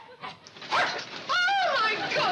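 A small dog barks and whimpers in a few sharp, excited yips in a comedy TV scene, close and fairly loud, mixed with a person's voice nearby.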